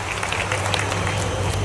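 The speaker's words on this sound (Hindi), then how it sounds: "दोनों के लिए जोरदार ताली बजाओ" Dense applause from a large crowd at a tribal gathering in Sidhi, clapping for the MP and MLA, steady and continuous through the brief moment with no pauses.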